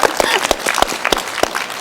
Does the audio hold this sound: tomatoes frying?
no